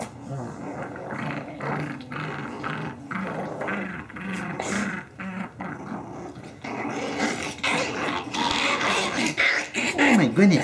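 Five-week-old puppies growl and whimper up close in low, rumbling bursts, with yips and small barks mixed in while a person talks over them throughout.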